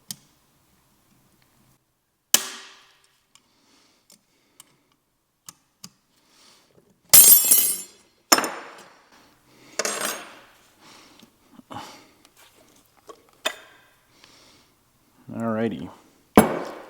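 Scattered metallic clinks, clatters and scrapes as a big circlip is worked off to free the compressor housing of a 62 millimeter turbo during an engine rebuild, close by and irregular, with quiet gaps between sounds.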